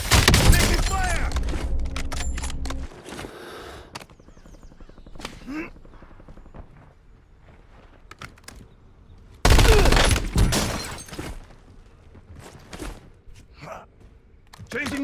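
Gunfire in Call of Duty: Warzone: loud bursts of shots at the start, a long quieter stretch of scattered cracks and movement, then another loud volley near the end, with a voice heard in between.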